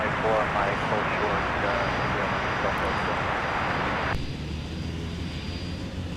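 Delta heavy jet from Seoul, South Korea, arriving at MSP airport in winter, a broad steady engine roar that drops off sharply partway through, with a voice talking over it.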